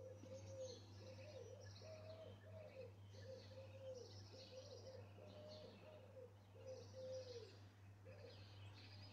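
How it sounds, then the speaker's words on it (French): Pigeons coo softly at a distance in repeated rolling phrases, faint over a constant low hum. "Donc, c'est les pigeons qui roucoulent."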